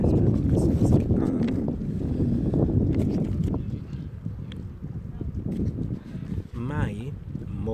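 Strong wind buffets the microphone in a steady, rumbling roar, with a person talking underneath.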